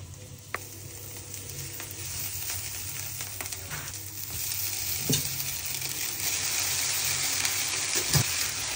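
Noodles with Maggi masala and egg are stirred and fried in a pan, giving a constant close sizzle with scraping and occasional clinks of a utensil against the metal.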